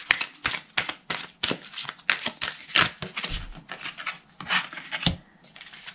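Oracle cards shuffled by hand in a quick run of crisp riffling swipes and taps, close and clear, with no talking over it.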